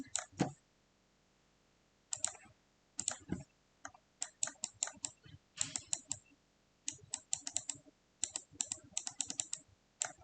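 Rapid typing on a computer keyboard, close and crisp, in irregular bursts of quick clicks separated by short pauses, with no voices.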